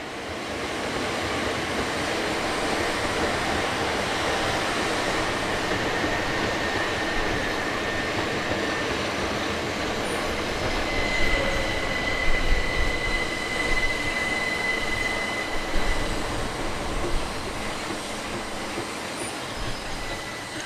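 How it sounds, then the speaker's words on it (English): Two coupled Class 375 electric multiple units pull into the platform at Tonbridge station, a steady rumble of wheels and traction with brief high wheel squeal as they slow, no voices. "Entering the downside platform are units 375707 and 808, forming the 1108 from Charing Cross to Hastings."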